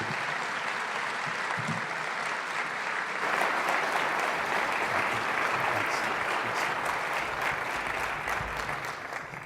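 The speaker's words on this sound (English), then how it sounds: "Please join me in welcoming General Hayden." Audience applause welcoming General Michael V. Hayden to a speaking event, a steady, dense wash of clapping from a large crowd that swells slightly partway through and carries on without pause.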